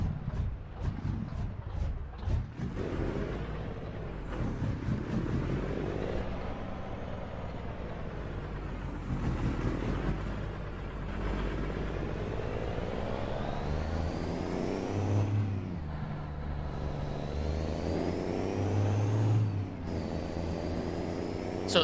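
A video-game truck fitted with a Johnny Cash engine pack, pulling a load of goats, gives a steady, loud diesel drone with air-brake hisses and gear changes along the way, and no talk over it.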